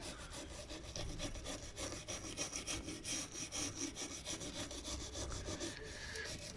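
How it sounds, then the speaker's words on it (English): A stiff bristle brush scrubs a Honda D-series valve cover with a rapid back-and-forth rasping rhythm, steady and close, with no one speaking. "I'm going to use this stiff bristle brush just to rub it and see."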